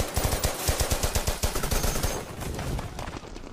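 Rapid bursts of automatic gunfire in a war film battle scene, loud rhythmic shots in quick succession that thin into a scattered, lower rumble toward the end.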